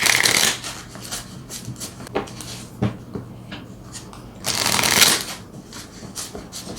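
A deck of tarot cards gets shuffled close by in two quick riffling bursts, one at the start and one near the end, with soft card handling and taps in between and no talking.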